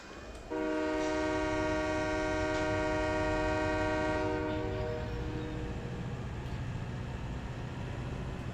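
A train in Farming Simulator 17 sounds a loud, steady horn for about four seconds, then settles into a continuous rolling rumble of rail cars, with no voices.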